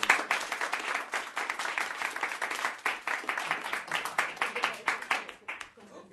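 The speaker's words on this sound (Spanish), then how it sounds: "Un aplauso, por favor." Audience applause at a presentation event: dense, steady clapping from many people that holds evenly, then thins and fades near the end.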